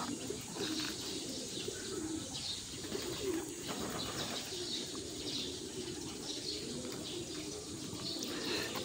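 Many young pigeons cooing and rustling together in an enclosed breeder loft, a continuous low murmur of calls with occasional wing flutters nearby.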